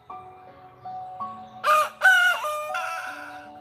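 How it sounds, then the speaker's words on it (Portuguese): A rooster crows in a sermon setting, two strong bursts rising over a faint background of steady tones, then trailing into a lower, sustained call. "O galo cantou."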